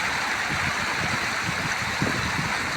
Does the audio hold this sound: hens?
no